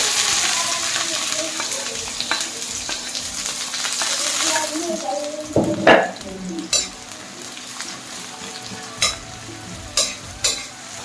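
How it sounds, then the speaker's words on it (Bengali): Onions frying in hot oil, a steady hiss with clinks and scrapes of stirring, the sizzle fading later into occasional sharp knocks; no talk. "আমি তেলে এখন পেঁয়াজটা দিয়ে পেঁয়াজটা ব্রেস্তা করে নেব"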